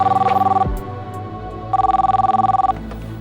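A telephone rings in two long electronic trilling bursts separated by a short pause, loud and close with no talking over it.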